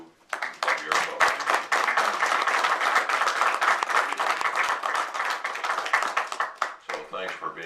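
Round of applause from a gathering marking the sale of an Elks lodge, with close, distinct hand claps that swell quickly, hold steady, and then break up into scattered claps at the end.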